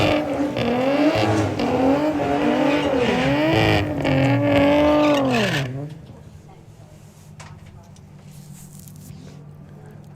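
VW drag race cars launch at Santa Pod, their engines screaming loud and revving in rising, falling sweeps for several seconds before cutting to a quieter low rumble, with a commentator talking over it.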